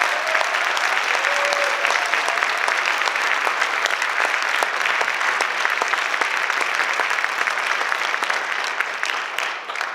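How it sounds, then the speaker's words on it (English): A concert audience at a high school spring band concert gives sustained, dense applause for the senior band members, steady and loud throughout with a slight fade at the very end. "A round of applause for our seniors."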